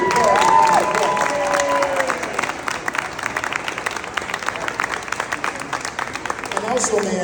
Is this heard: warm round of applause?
yes